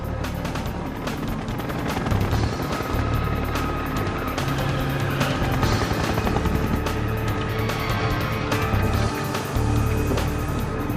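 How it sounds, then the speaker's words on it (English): A helicopter drones loudly and continuously, its rotor thumping steadily with a heavy low engine rumble, close by and unbroken throughout. "give that chopper some room"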